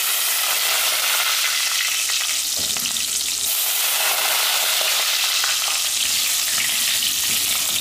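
Pork skin frying and crackling in hot oil in a thin pan on the stove, a steady dense sizzle with constant crackle and pops running the whole time, loud and close with no talking.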